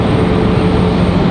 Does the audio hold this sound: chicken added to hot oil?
no